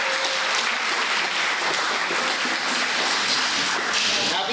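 A crowd applauds for local government leaders at a Disability Pride Month community event, a steady, dense wash of clapping that fills the room without pause.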